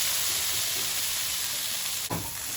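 Marinated soya chunks (meal maker) frying in a thick masala give a steady, close sizzle with a soft stirring texture throughout, broken by one sharp clack of a spoon against the pan near the end.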